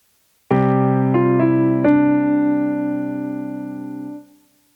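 Piano playing Deck the Halls slowly, the right-hand melody with a held bass, a few separate struck notes that ring and sustain together before fading out, close and clean with no talking.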